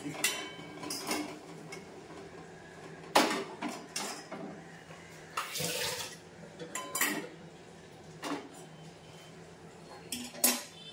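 Water with soaked raisins is poured and transferred between kitchen containers, heard as soft watery pouring mixed with clinks and knocks of dishes at close range, with no talking.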